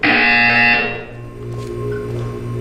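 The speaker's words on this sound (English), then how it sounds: "You will hear a buzzer." A loud buzzer from the Portal 2 video game sounds in one long harmonic blast that fades after about a second, leaving a lower sustained hum with faint tones.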